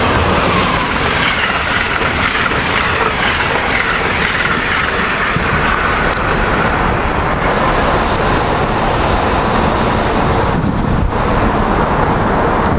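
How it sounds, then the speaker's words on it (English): Amtrak train 93 heading south behind AEM-7 electric locomotive 905 at Cornwells Heights, passing close and loud as a steady broadband roar of wheels and rail noise with faint clickety-clack, filling the whole stretch without talk. "Here we got Amtrak train 93 coming south late with an AM7 leading"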